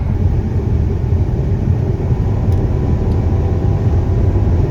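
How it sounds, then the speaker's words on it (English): A long freight train rolls past close by, a loud, continuous low rumble and clatter that holds steady from start to finish. "I think this is the longest train"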